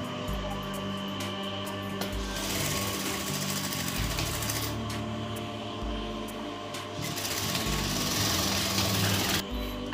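A sewing machine stitches baby frock fabric in rapid bursts, the motor whirring and the needle chattering in several runs separated by short pauses, close and alone without talk.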